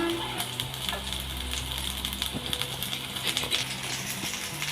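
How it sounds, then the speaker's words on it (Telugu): Aloo cutlets frying in oil in a pan, a continuous moderate sizzle and crackle with small metallic taps and scrapes as the cutlets are turned. "ఇదండి ఈ రకంగా గోల్డెన్ కలర్లో వచ్చినంత వరకు ఫ్రై చేసుకోవాలి 2 సైడ్స్ కూడా"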